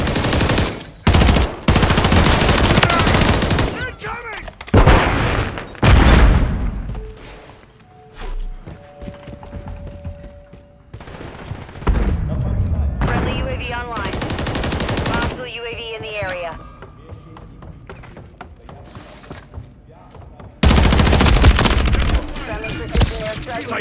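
Gunfire in Call of Duty: Modern Warfare III multiplayer, with loud bursts of automatic fire and sharp shots that come and go, the longest and heaviest bursts near the start and end, mixed with shouted talk.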